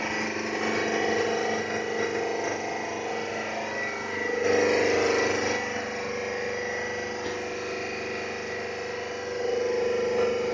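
Testing machine compressing an aluminium specimen, a continuous mechanical whir and hum with a brief louder swell midway, steady and close.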